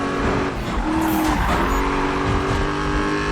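A racing car engine in a Need for Speed video game roars continuously at high pitch, steady and loud like a chainsaw, with a brief tire squeal midway and no talking.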